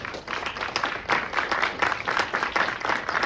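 An audience at a Sundance Film Festival 2026 Q&A for the film In the Blink of an Eye claps in a dense, steady round of applause, moderately loud and continuous.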